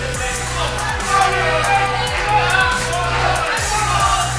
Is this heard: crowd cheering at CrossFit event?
yes